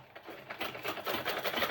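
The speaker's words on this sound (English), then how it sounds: "then I'll sew it straight down." A sewing machine stitches a folded fabric band for a braided turban cap, its needle chattering in a rapid, steady run. The sound is close but soft, with no voices.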